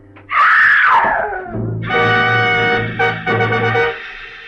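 A woman lets out a long, loud scream in an old-time radio drama, followed by a sustained wailing cry that rises and falls.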